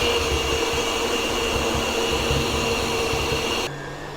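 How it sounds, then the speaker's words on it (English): Steady electric mixer whirring at a constant pitch while kneading Taiwanese pork belly bun dough, a continuous close hum that drops slightly in level near the end. "you can use your hand or electric mixer to knead the dough"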